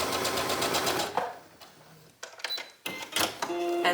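A sewing machine stitching tightly around a dress neckline close to the seam allowance: rapid mechanical stitching bursts separated by short pauses, heard close up.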